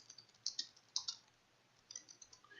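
Quiet typing on a computer keyboard, with small clusters of soft key clicks near the start and again near the end and a lull in between, heard close up with no talking.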